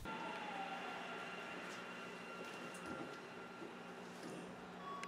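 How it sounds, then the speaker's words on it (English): Rubber-tired subway train running on a center guide-rail guideway in Hokkaido, a steady low rumble and hum with a faint high whine throughout, heard from on board with no talk. "The subway uses a unique guideway with a center rail and rubber tires."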